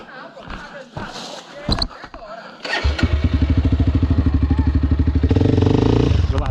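A Sherco 300 two-stroke trail motorcycle engine cranks and catches, then settles into a loud, steady pulsing idle that rises as the throttle is opened, with voices briefly at the start.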